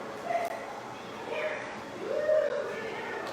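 A dog being played with by a man in the background gives a few short yips and whimpering barks at a moderate distance, mixed with faint household noise and a voice.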